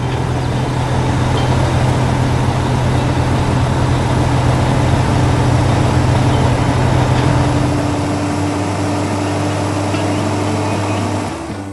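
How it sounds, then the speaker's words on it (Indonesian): Cartoon trucks work on sandy ground, their engines giving a steady, loud, low droning rumble with a constant hum that holds throughout and eases slightly at the very end. "Lihat itu, semua truk sedang bekerja keras di tengah tanah pasir"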